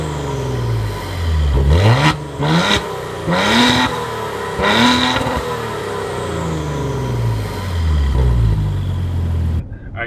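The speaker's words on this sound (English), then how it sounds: "these beautiful quad chrome tip exhaust. And not only do they look cool, but they also sound cool as well." A 2020 Maserati Levante SQ4 with quad chrome-tipped exhaust, revved repeatedly while stationary: several loud rising blips that fall back to a steady idle between them, close and prominent.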